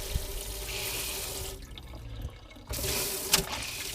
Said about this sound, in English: Cold water works.